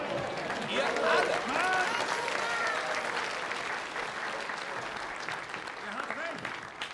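A crowd cheering in a period film scene about the young Karl Marx, loud voices and applause swelling together, mixed with shouting close by and continuing at a steady level throughout.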